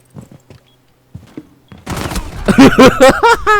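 A few faint, scattered shots open a Rainbow Six Siege round. A louder burst of rapid shotgun-style fire and close impacts follows, with a voice talking over the shooting.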